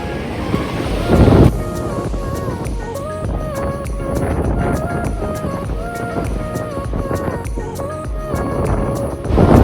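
Wind and surf on St Kilda beach in Melbourne on a chilly, blustery day: a steady roar of breaking waves with gusts buffeting the microphone throughout.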